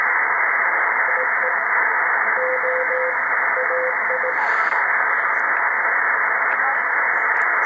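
A faint CW Morse code signal on the 20-meter amateur band keys short dots and dashes as a thin steady tone. It sits beneath constant loud radio hiss, with the keying coming in scattered bursts rather than an even rhythm.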